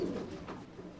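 Racing pigeons coo in a crowded rooftop loft in Kowloon Walled City, Hong Kong, with soft, steady, overlapping throaty calls and a constant low murmur of nearby birds.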